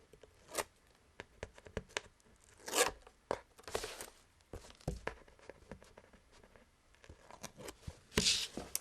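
Adhesive backing being peeled away in short bursts, quiet crinkly rips and tearing sounds spaced irregularly with small rustles between them, close and faint.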